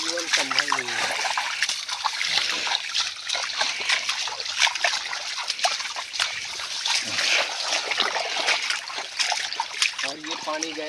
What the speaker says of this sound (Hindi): और ये पानी गया एक की क्यारी में, पैल में ये पानी भरेगा।